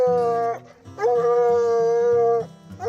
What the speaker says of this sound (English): we're running the hounds at night in search of raccoons